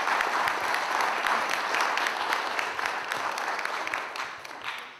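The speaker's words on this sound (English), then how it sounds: "let's give him a big round of applause" A conference audience gives a round of applause, steady and fairly near, with distinct individual claps that gradually thin and fade toward the end.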